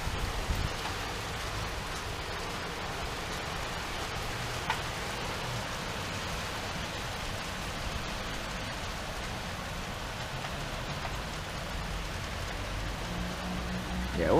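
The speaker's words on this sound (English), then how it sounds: "this is technically heavy rain" A constant wash of heavy rainfall hisses evenly throughout, a broad, unbroken roar of drops without talking.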